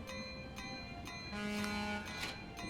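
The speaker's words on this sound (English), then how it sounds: "here comes the last special train" A train arriving in the game Train Valley: a steady rail rumble with a clear horn-like toot in the middle and some brief chimes, all at moderate loudness with no talking.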